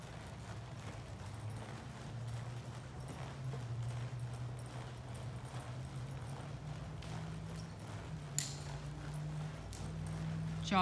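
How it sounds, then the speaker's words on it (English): Soft, steady clip-clop of a ranch horse's hooves at a jog, fairly distant, with faint voices in the background. "Jog your horse."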